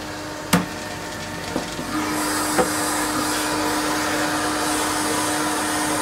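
A home coffee roaster's cooler fan runs with a steady whooshing hum that grows louder and fuller after a couple of seconds, punctuated by a few sharp knocks and clicks near the start.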